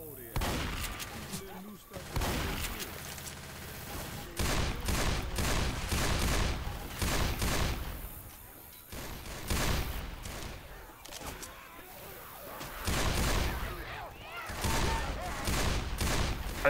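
Repeated shotgun blasts in Left 4 Dead 2, loud bursts of game gunfire firing in rapid irregular volleys with brief pauses throughout, mixed with in-game noise.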